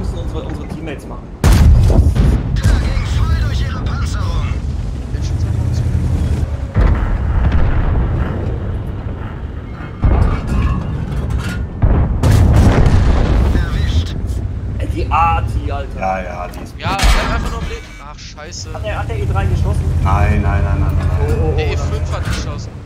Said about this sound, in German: Der E5 hat geschossen.